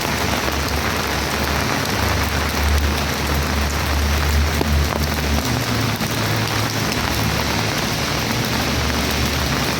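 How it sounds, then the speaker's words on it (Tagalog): Steady, heavy rain pours down continuously, a dense even hiss with a low rumble underneath, close and unbroken, with no voices. "Ayan ang ulan."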